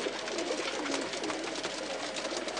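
A flock of pigeons keeps up continuous overlapping cooing nearby, a dense, even murmur of calls with no voices over it.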